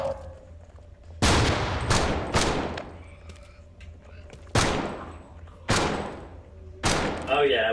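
Gunfire in the VR zombie shooter Death Horizon: Reloaded on Oculus Quest: six loud, sharp shots in irregular bursts, each with a decaying tail, over a low background hum.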